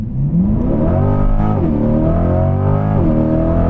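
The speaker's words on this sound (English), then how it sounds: "we're gonna do a quick little first gear pull here, see how the drag radials react" A C8 Corvette on drag radials pulls hard in first gear, its engine roaring loud and close as the revs climb steadily, dip briefly, then rise again with no voices.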